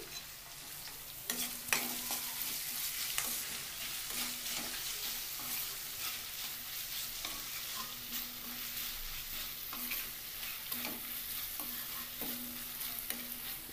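Sliced onions with half a teaspoon of turmeric frying in a pan for a hotel-style poori curry. A steady, close sizzle runs throughout, with occasional scrape and stir sounds.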